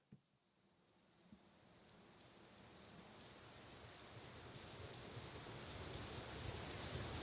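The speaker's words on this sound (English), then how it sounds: "All right, we got rain." Steady rain hisses and patters, starting faint and gradually swelling louder, with a couple of soft knocks near the beginning.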